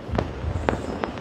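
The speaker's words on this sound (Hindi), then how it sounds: "पटाखों से गूंज उठ रहा है पूरा आसमान" Diwali firecrackers bursting in Una, three distinct sharp pops spaced through a brief stretch over a low rumbling background.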